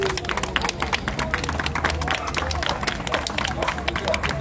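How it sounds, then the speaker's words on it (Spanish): An audience at a clown show breaks into brisk, continuous clapping, loud and close, with scattered crowd noise and voices blended in. "¿Lo quieren más alto? Con un aplauso,"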